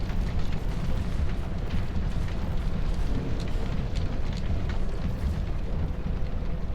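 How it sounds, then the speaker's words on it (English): A windmill burns in Dark Souls II, a steady, dense roar of fire and crackling rumble filling the scene at constant loudness throughout. "we're gonna light the fucking windmill on fire"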